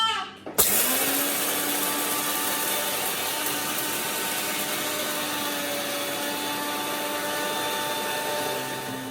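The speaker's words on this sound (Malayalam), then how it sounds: "ഇനി ചൂടാറിയതിന് ശേഷം മിക്സിയിലിട്ടിട്ടൊന്ന് അടിച്ചെടുക്കുക." A mixer grinder whirs steadily as it grinds roasted black pepper into powder, a loud continuous motor drone that starts abruptly after a brief click and runs unbroken without speech.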